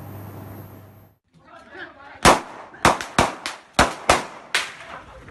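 Several sharp, loud bangs go off in an uneven burst, gunshots ringing out over a restless crowd with shouting in the background, during a riot at a polling station in Sampang, Madura.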